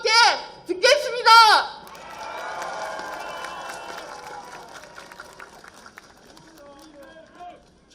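Crowd applause and cheering at a Lee Jae-myung campaign rally in Busan: a few loud shouted calls at the start, then a steady wash of clapping and cheers that slowly fades.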